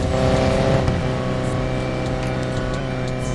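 A car accelerates hard in the racing video game Need For Speed Payback, giving a loud, steady engine roar with dense harmonics that climbs in pitch and continues throughout, with no talking.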